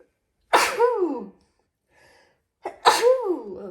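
A person sneezes twice, close and loud, with each burst a sharp breathy explosion and a short quiet gap between them.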